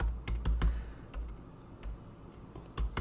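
Quick, quiet clicks of a computer keyboard as code is typed, irregular bursts of keystrokes close by in a hushed room.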